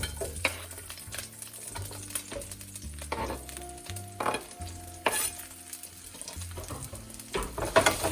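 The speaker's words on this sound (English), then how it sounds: "Now we're gonna add our onions and peppers into the pan." Loud, steady sizzling of onions and peppers frying in hot oil for shakshuka, with occasional stirring and clinks of a utensil against the pan; no voices.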